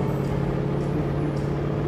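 A truck drives in the video game Alan Wake, giving a steady, close, low engine rumble and drone that holds evenly with no talk over it.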